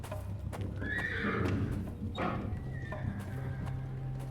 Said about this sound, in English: Sounds of fighting are making the horses especially nervous today